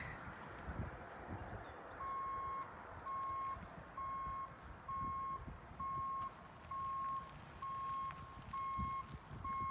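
An RV being driven with its slides still open backs up outdoors, its reversing alarm sounding loud, steady single beeps at an even pace, about one per half second, over a rough background rumble.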